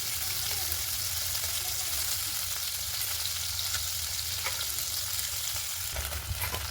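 Singi fish frying lightly in hot oil in a home kitchen, a steady, close sizzle that crackles continuously throughout, with occasional small pops and no talking.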